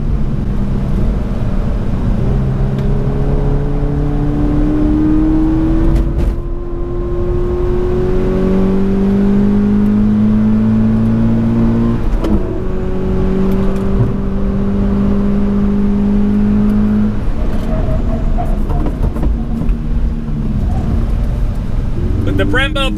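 A 2020 Toyota 86 TRD Handling Package with Brembo brakes laps a race track, its engine droning and rising in pitch through gear changes, loud and continuous with someone talking throughout.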